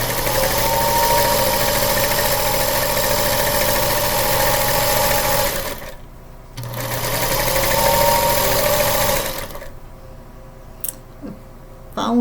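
Sewing machine stitching Holiday Cardinal quilt pieces, a steady close mechanical whir running in two long bursts separated by brief pauses, then stopping into quiet with a couple of small clicks.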